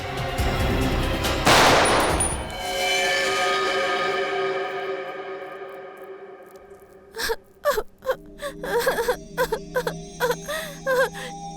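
A gun goes off inside a theater during a crime drama. The first sharp, loud blast is followed by several more rapid cracks, and a long wailing cry runs underneath at the start.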